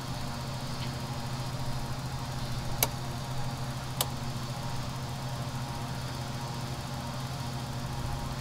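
Steady low hum and drone of a Jetstream 41 turboprop engine running at idle in a flight simulator game, continuous and fairly quiet, with two sharp clicks partway through.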